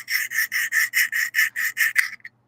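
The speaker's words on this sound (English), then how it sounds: "I'm just dragging it across the inner part of the upper receiver" An Allen key scrapes back and forth across the inside of a rifle's metal upper receiver, producing about nine even, rhythmic rasping strokes, close and clear, that stop abruptly.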